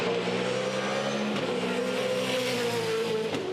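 A 2010 V8 Supercar race car at Sydney Olympic Park roars past on the circuit, a steady loud engine drone with a slight pitch shift as it goes by, no commentary over it.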